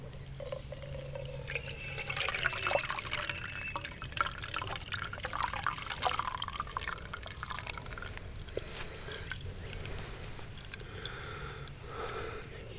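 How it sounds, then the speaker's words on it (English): Water trickles faintly at an outdoor solo campsite as it is slowly poured into a cup for coffee, a soft, uneven splashing over a quiet background hum. "we are going to start to slowly pour"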